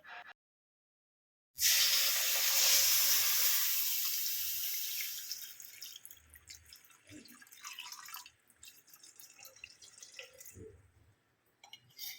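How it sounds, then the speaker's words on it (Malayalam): Coconut milk, squeezed with water, is poured into a pan of fish curry. A sudden loud liquid pour fades over several seconds into soft splashes and drips, then quiet. "ഇതിലേക്ക് നമ്മൾ നേരത്തെ വെള്ളം ചേർത്ത് പിഴിഞ്ഞ് വെച്ചിട്ടുള്ള തേങ്ങാപ്പാലില്ലേ, അതൊഴിക്കുക."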